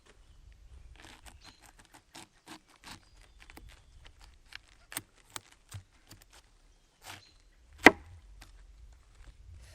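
A knife cuts into a freshly harvested summer garden vegetable: a scatter of soft, sharp taps and then one loud, crisp cut near the end, close by with no talking.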